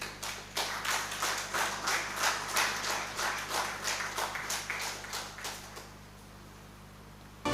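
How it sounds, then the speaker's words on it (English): A small audience at an association's anniversary ceremony claps by hand in slow, distinct, rhythmic beats that continue evenly for about six seconds before stopping, with a low steady hum underneath and no talk. "May we have a loud hand clap for Mr. Mohammed Manji."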